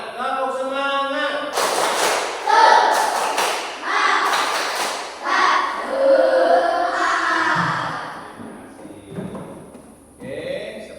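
A class of primary schoolchildren performs the rhythmic 'tepuk semangat' clapping routine, bursts of sharp group claps alternating with chanted voices, loud and close in a classroom.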